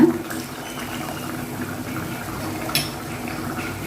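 Tamarind water is poured into a pot of okra tamarind curry, a steady, fairly soft liquid pour with a small splash near the end, close by and alone.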